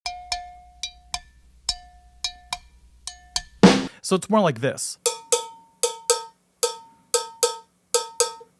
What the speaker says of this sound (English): he's actually choking the sound of the cowbell every once in a while